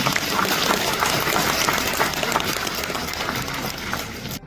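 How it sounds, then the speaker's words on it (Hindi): A crowd at the Pashmina Annual Artisan Awards in Kashmir applauds the winners, a dense, even wash of clapping that holds steady for a few seconds before stopping abruptly. "सबके लिए जोरदार तालियां।"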